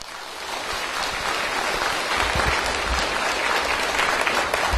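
An audience at Shandong University gives warm, sustained applause to welcome Khenpo Sodargye as he comes to speak, a steady, dense wash of clapping from many hands.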